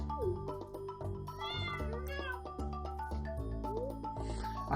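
A stray cat in the farming game Stardew Valley meows a few times over cheerful game background music with plucked notes, the meows short and rising, sitting clearly above the tune.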